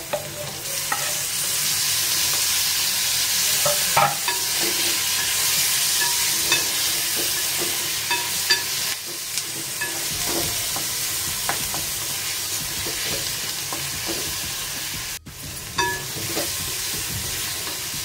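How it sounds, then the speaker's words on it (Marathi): Tomatoes and red chili powder sautéed in a hot pan for prawn masala, a continuous loud sizzle with frequent scraping stirs of the spatula and occasional clinks, no talking. "एक चमचा लाल तिखट, टोमॅटो घालून परतून घेऊया."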